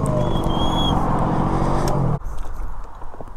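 A moped fitted with a 70cc Stunt kit engine idles nearby, a rough pulsing engine drone that abruptly drops off, then sputters unevenly at a lower, leaner idle.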